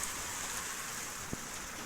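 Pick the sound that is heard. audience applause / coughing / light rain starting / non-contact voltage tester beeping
light rain starting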